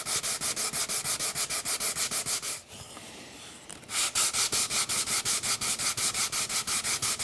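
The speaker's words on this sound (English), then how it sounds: "This is 220 grit sandpaper." Hand sanding a small wooden box with 220 grit sandpaper wrapped on a wooden block: steady, close, rhythmic back-and-forth rasping strokes, pausing briefly midway before resuming the same even scrubbing rhythm.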